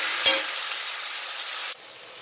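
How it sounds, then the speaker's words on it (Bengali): Onions frying in hot oil with bay leaf and dried chili, a loud steady hiss of sizzling right up close, with a brief clink early on, then cutting abruptly to a much quieter sizzle. "দিয়ে পেঁয়াজটাকে আমি ভালো করে ভেজে নেব।"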